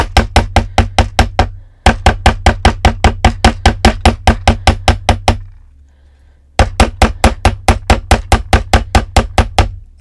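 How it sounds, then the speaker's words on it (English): A riveting hammer taps metal in rapid, evenly spaced strikes, close and sharp, texturing the metal. The strikes come in three runs separated by brief pauses. "I'm kind of rocking my hammer back and forth."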